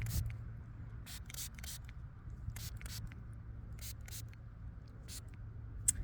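Several short hissing bursts from a spray bottle, spaced irregularly over a quiet low hum, close by.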